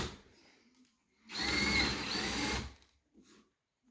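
A power drill whirs for about a second, loud and close, during a steel stair railing build, between quieter stretches of near silence.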